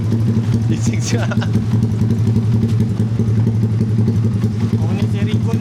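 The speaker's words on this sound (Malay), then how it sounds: "Lama siap tak dengar bunyi exhaust aku" A Yamaha Y15ZR motorcycle with a 70mm engine idles nearby with a steady, low, throbbing exhaust rumble, while someone talks over it.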